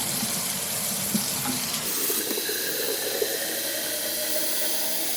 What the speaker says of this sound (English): It's best to do tie-dye with hot water, so let me just test it.